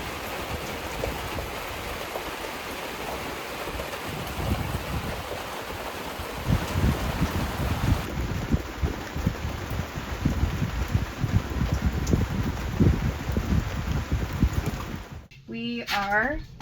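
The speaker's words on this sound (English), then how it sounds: "It's raining its ass off right now" Heavy rain drums on an anchored sailing boat, a dense close patter of drops that thickens midway, with a brief whine near the end.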